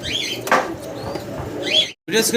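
Sirazi pigeons cooing at a pigeon market stall, a close low throaty coo rising and falling over a couple of seconds, with a brief silent gap near the end.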